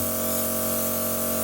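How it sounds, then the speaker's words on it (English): An aerosol can sprays continuously at close range onto a client, a steady, loud hiss that runs unbroken and alone for about a second and a half. "Just spraying away."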